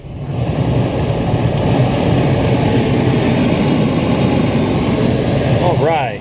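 A 2004 Pontiac Montana's repaired HVAC blower motor runs with a steady, loud, even whooshing roar that holds unchanged from start to finish.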